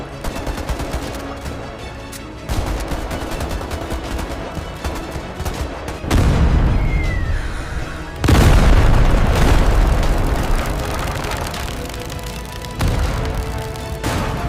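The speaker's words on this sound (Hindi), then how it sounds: "फिर एकदम से बंदूकों की बौछार।" Dense barrage of gunfire with heavy booms and explosions, a reenacted night attack by militants on an army camp, loud and continuous in rolling bursts with no speech.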